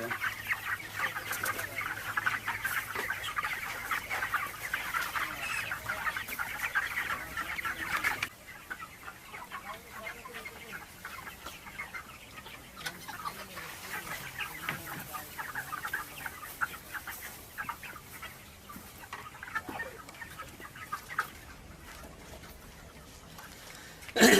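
Farmyard chickens and a rooster cluck repeatedly and close by, a busy, continuous stream of calls. Background noise shifts partway through.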